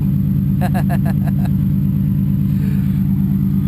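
A car engine runs quietly at idle with an even, low rumble, while a short burst of talk sits over it near the start.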